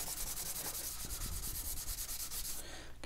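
Steady scratchy rubbing of sandpaper on wood, close and continuous for a few seconds before it stops abruptly.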